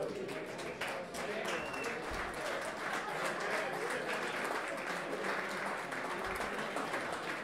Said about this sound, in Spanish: Enhorabuena y un aplauso para Rob Castillo.